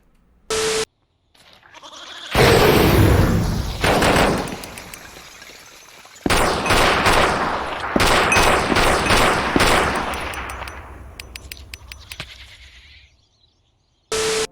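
Rapid bursts of gunfire ring out from guns on a Minecraft server, dense volleys repeating over several seconds in two long stretches, loud and close, with brief gaps between and a few isolated cracks near the end.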